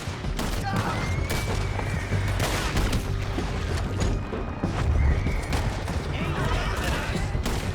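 Horses neighing and galloping with riders in Red Dead Redemption 2, whinnies and hoofbeats mixed with bursts of gunfire and booms, people talking over the clamor throughout.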